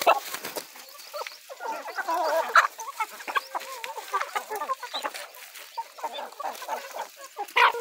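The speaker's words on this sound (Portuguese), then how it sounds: "Outra galinha grande e bonita aí." Large hens cluck and murmur close by in a farmyard, a busy run of short, irregular clucks and throaty calls with occasional louder squawks, heard without talk.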